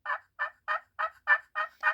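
A slate turkey call is played in seven evenly spaced, short yelping notes, clear and close with silence between each.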